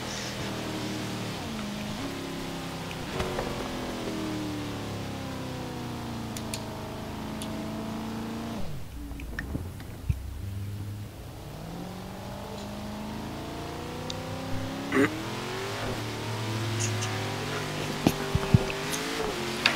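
A BMW engine in Forza Horizon 3 revs and shifts through gears, the pitch sweeping up and down across the whole stretch, with a brief dip and a few small ticks and squeals.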